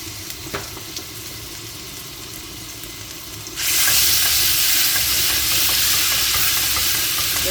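Garlic paste dropped into hot oil in a pan sets off a sudden loud, steady sizzle that continues to the end, after a few seconds of quieter kitchen clatter.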